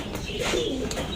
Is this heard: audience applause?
no